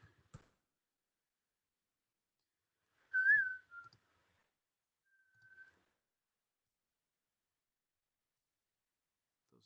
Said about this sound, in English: This is where we whistle while we work.